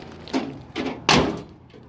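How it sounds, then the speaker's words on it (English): Door of a 1962 Chrysler 300 being shut: three heavy, solid thunks at roughly even spacing, the last one loudest and fullest, close up with no talk over them. "I just can't believe how good this door shuts after everything it's been through."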